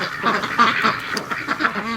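A flock of domestic ducks quacks steadily and busily on their evening rush home, calls overlapping closely at moderate loudness with no talk.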